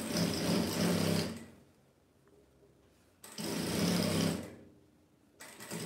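Sewing machine stitching two fabric bias strips cut to 47 cm, running in two steady bursts of roughly a second each with short quiet pauses between, close and clear with no talking.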